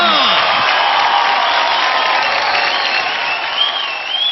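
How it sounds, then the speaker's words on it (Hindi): A studio audience at India's Got Talent claps and cheers loudly, a thick continuous wash of applause with whoops, and a few whistle-like tones rising above it. "तालियां हो जाए, come on!"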